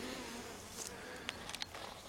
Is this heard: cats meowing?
no